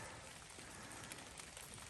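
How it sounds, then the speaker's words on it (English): Rain and melting ice drip on a frozen hiking trail near Bald Knob Cross, a faint continuous patter of drops spread evenly throughout, with no voices. "it's starting to rain because all this ice is now starting to thaw"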